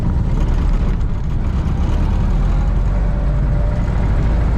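A 1930 Ford Model A Tudor Sedan engine runs steadily with a loud, continuous low rumble and no pauses or voices.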